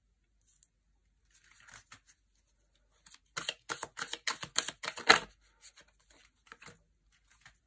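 Tarot cards riffled and slapped in a quick cluster of crisp papery flicks and taps, close and dry, with sparse card handling before and after in a quiet room.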